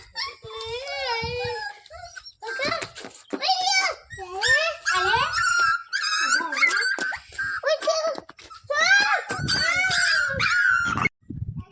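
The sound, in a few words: puppy whimpering and crying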